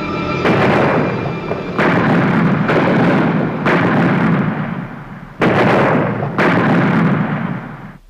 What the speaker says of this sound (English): The battle opened with the firing of 3-inch guns.